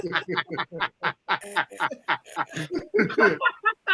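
A voice imitates Donald Duck in a rapid run of nasal, garbled quacking syllables, close and loud, with a quick chuckle mixed in.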